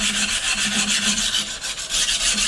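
A knife blade is rubbed steadily against a sharpening stone to thin its bevel, giving a close, continuous rasping scrape with a regular back-and-forth pulse and no talk.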